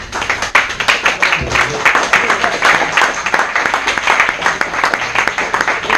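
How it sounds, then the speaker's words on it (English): Sustained applause from an audience fills the room, dense steady clapping with a few sharper claps near the microphone. "Another big round of applause for all our frontliners and all of you guys."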